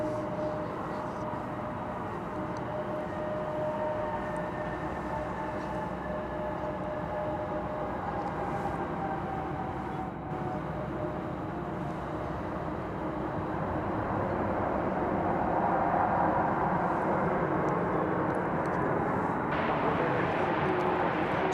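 A jet airliner taxiing at DFW Airport gives a steady, moderately loud engine drone with faint whining tones that swell slightly toward the end.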